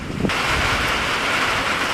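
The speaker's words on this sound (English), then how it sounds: "it's been like 2 weeks since we've had rain, so we really need this" Steady rainfall outdoors near a barn and a boat, a dense even hiss with wind buffeting the microphone, loud and continuous throughout with no talking.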